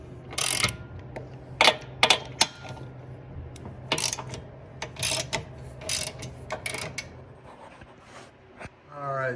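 Ratchet wrench working on the strut bolts of a Cadillac CTS: irregular bursts of sharp metallic clicking and clattering, close and fairly loud, separated by quieter pauses, with a faint rising chirp near the end.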